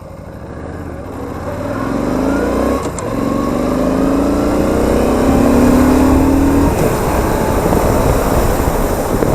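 A 2015 Yamaha Stryker motorcycle accelerates hard, its engine note climbing steadily through the gears, loud and close, with wind rush building over nine seconds and a brief dip at a gear change.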